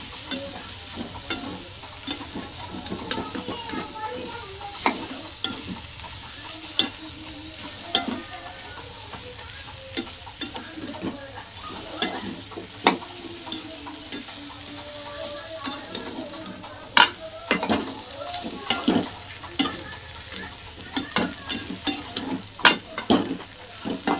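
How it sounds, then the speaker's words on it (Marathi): Boiled potatoes and coriander are stirred in a hot pan on a lowered gas flame, a steady soft sizzle under repeated scraping of a spoon against metal, close and without talk. "आपले उकडलेले बटाटे होते 4 हे आणि कोथिंबीर 1 पीस टाकून घेतलं मी. आणि गॅस स्लो करते."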